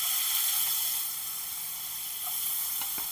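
Raw banana (plantain) slices frying in hot oil, a steady dense sizzle with faint crackles, continuous and close throughout.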